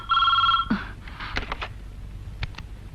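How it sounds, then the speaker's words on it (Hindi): A telephone rings with a bright electronic trill for about half a second, followed by clicks and handling noises of a receiver being picked up. "पीटीआई का फोन आया था।"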